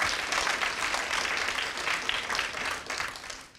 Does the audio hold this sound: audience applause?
yes